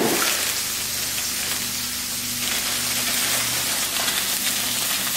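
Turkey burgers frying in a pan: a steady, close sizzle and crackle runs through the whole stretch with a faint low hum beneath, and no voices.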